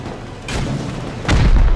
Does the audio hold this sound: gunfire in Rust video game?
yes